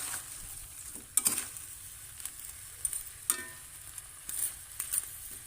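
Shrimp adobo sizzles in a hot pan as soy sauce goes in, a steady frying hiss broken by several sharp spatula stirs and scrapes, close and moderately loud with no talking.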